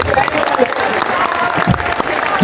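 A college audience standing to applaud their teachers, a dense, continuous wave of clapping from a large crowd with a few voices mixed in.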